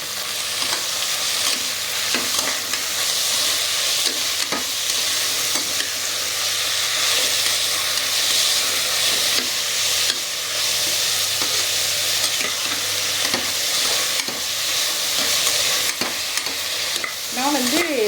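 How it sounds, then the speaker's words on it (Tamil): Onions and tomatoes for mutton kurma sauté in a pan, giving a loud, continuous close sizzle broken by frequent stirring scrapes and spoon taps. "பாருங்கள், வெங்காயம் நல்லா வதங்கணும்."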